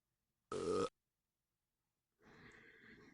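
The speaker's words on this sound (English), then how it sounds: "once it's over, we'll have him belch" Homer Simpson lets out a short, loud cartoon belch in Simpsons: Cartoon Studio, followed by a pause and then a rougher, lower grunting rasp.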